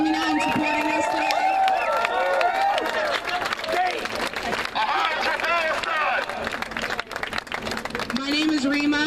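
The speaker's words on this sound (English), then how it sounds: "Let's give them a round of applause for coming out and supporting us today." A protest crowd outdoors applauding and cheering, with dense clapping mixed with whoops and shouted voices, loud and close throughout, voices rising and falling over the steady clapping.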